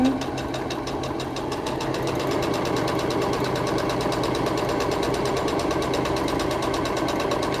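A domestic sewing machine stitches a cloth face mask, running steadily and loud with a fast, even mechanical chatter of the needle throughout, close up and alone without talk.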